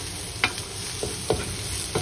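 Garlic frying in a pan for a salmon and vegetable lunch, heard as a soft steady sizzle with three or four brief scraping stir strokes spaced through it, close and fairly quiet.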